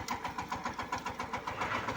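A tractor engine runs steadily in a chilli field while field channels are cut, its rapid rhythmic thumping pulse close and moderately loud.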